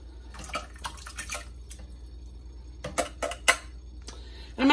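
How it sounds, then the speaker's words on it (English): Water is poured into cans of diced tomatoes and tomato sauce for a stuffed pepper soup, making faint, brief splashes and drips in a quiet kitchen, with a louder pour at the end. "I'm going to add a little bit of water to each of these cans."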